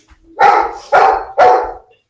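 A dog wanting to go outside gives three loud, close barks in quick even succession, each sharp and full, with no other sounds around them.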